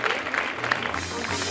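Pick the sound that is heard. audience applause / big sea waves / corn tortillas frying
audience applause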